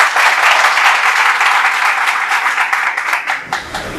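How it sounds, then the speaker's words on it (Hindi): Loud, dense applause from a room of NDA aspirant students at an interactive motivational session, steady and continuous throughout before thinning slightly at the end. "एक बार आप खुद के लिए जोरदार तालियां बजाएं।"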